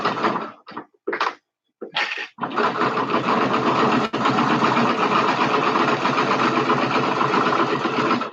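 A sewing machine stitches a 5/8 inch seam for an elastic casing, starting in a few short bursts and then running steadily and loudly in a continuous mechanical whir.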